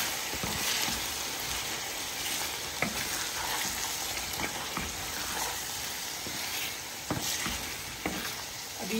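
Chicken fries with garlic ginger paste in a karahi, giving a dense, loud, continuous sizzle broken by repeated scraping stirs, all close and with no talking.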